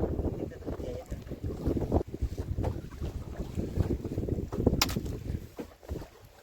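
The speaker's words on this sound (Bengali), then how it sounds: "খোলা হাওয়াও দিচ্ছে সেই লেভেলে বিভৎস হাওয়া ঢেউ উঠে গেছে" Strong wind whips across a small fishing boat on rough, wave-tossed water in the Sundarbans, a loud rumbling gust buffeting close to the microphone with surges and brief lulls.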